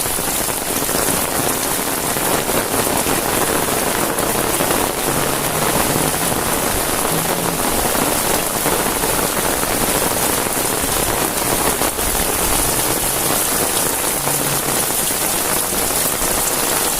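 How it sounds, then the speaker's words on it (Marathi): Heavy night rain pours steadily onto a surface in Ratnagiri, a dense, loud, unbroken hiss of drops with no letup. "पावसाचा म्हणजे आवाज आणि वरतून गाजतोय त्याचा आवाज"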